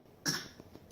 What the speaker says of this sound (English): Oh, you have a cough too.